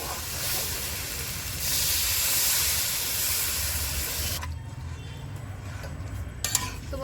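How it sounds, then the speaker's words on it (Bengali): Water poured onto vegetables in a hot pan, setting off a loud sustained hiss of steam that dies down after several seconds, followed by quieter sizzling and a few clinks of utensils. "এখন আমি সবজিতে জল দিয়ে দেব"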